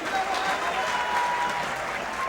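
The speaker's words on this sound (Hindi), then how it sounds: "डॉक्टर गेसानी के लिए जोरदार तालियां बजाइए।" Steady, loud applause from a large audience at an awards night, a continuous wash of clapping with no gaps and no talk over it.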